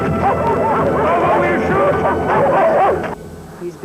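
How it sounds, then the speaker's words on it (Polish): Several dogs barking excitedly in a tense outdoor chase scene, rapid overlapping barks and yips throughout, loud and close, breaking off abruptly near the end, with shouting voices mixed in. "Spuścić psy!"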